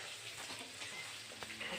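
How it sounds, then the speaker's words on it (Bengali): Green beans fry in a pan for Bengali vegetable khichuri, a soft, steady sizzle close by with a couple of sharp stirring clinks near the end, quiet overall. "এই বিনসগুলো ভাজা হোক"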